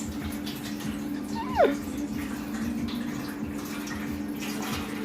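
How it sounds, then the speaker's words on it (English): Water from a tap filling a baking pan set in an oven for a turtle cheesecake water bath, a steady hiss over a low hum with a brief squeak partway through. "I'm going to fill it up with water, and this is going to keep moisture in the oven"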